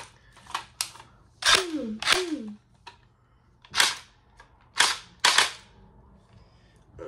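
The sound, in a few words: gel blaster toy gun firing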